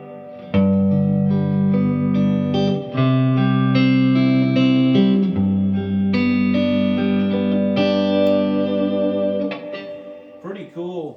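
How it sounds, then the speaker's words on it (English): A Vox AC15C tube guitar amplifier with its reverb turned fully up rings out sustained chords, each one washed in a long, lush reverb tail that lingers and fades as the playing stops. "All right, I'm going to dime the reverb."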